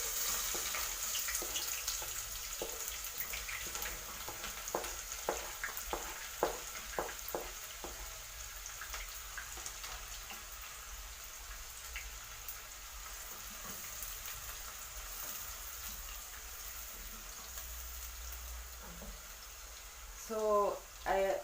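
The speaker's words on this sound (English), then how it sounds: "So now that our oil is actually heated up, I'll go straight ahead and add in my onions." Onions sizzle and crackle in hot oil in a home kitchen pot while sukuma wiki is being cooked, a steady frying hiss with scattered pops and a few louder clatters near the end, close and moderately loud.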